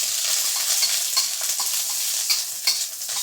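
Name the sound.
garlic stir frying in a hot wok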